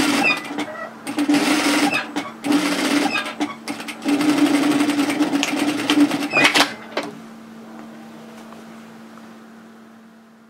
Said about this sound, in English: I'm just going to sew a second row of stitching parallel to the first